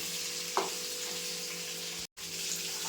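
Onion petals cook in a pan over a full gas flame for paneer chilli, giving a steady soft sizzle throughout with a brief stir sound early on and a momentary dropout near the end.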